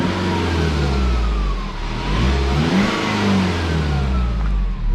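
A BMW 118d with the N47 diesel engine, recently fitted with a replacement high-pressure pump after oil mixed with diesel, runs steadily close by and revs up and down in a couple of smooth swells with no voices.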